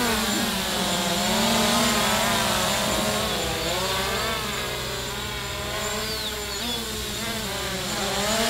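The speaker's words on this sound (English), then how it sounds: "Listen to those brushless motors." Brushless motors drive a blue MJX Bugs 3 drone in flight, a loud continuous buzzing whine that rises and falls slightly in pitch, close by and with no speech over it.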